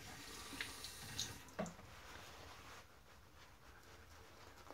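Tap water runs at a bathroom sink to wet an Omega S shaving brush, a soft steady splashing stream at moderate distance with a few brief clinks and drips over it.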